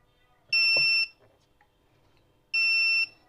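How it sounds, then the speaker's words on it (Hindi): A buzzer on a Luminous solar inverter PCB under test gives two loud, steady electronic tones of about half a second each, two seconds apart, with faint clicks between them. "ये जो पीसीबी है 2 इसने बजर साउंड की है"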